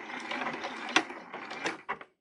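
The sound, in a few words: sewing machine back-stitching a napkin corner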